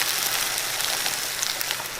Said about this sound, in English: We got the rice boiling.